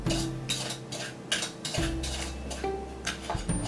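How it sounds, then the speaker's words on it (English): A spoon stirs cinnamon and sugar in a bowl with a steady run of light clinks and scrapes, close by and alone. "I want to mix up the cinnamon and the sugar."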